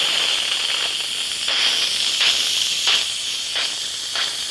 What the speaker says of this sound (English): Now we're gonna release the pressure.